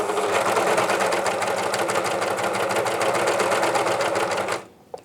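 Janome 134D overlocker sewing a rolled hem, a fast, loud, even mechanical whir with rapid stitching pulses that runs steadily, then stops abruptly near the end, followed by a single small click.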